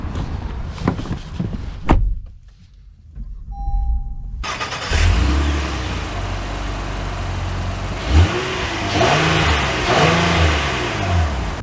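A 2023 Honda Passport EXL with the HPD package drives along, its engine and road noise forming a steady mid-level rumble with rising and falling revs after a door-like thump and brief quiet at the start, with no talk.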